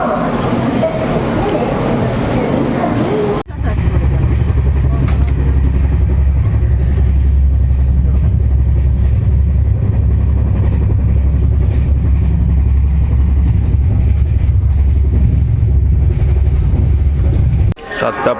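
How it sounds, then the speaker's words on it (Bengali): The 20890 Tirupati Howrah Humsafar Express running, with a loud, steady low rumble and rolling noise sustained for most of the stretch after a brief burst of mixed sound at the start. "আর আমাদের ট্রেন 20890 তিরুপতি হাওড়া হামসফর এক্সপ্রেস।"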